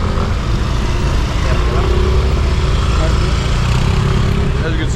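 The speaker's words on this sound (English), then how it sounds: "we're right in the road with all the mopeds coming by" Steady roar of moped and motorbike engines passing along a busy road in Manila, continuous and fairly loud traffic noise with no clear gaps.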